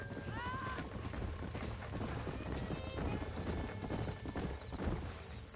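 Horses trotting in Red Dead Redemption: a steady run of hoof clip-clops, with an occasional whinny and game ambience throughout.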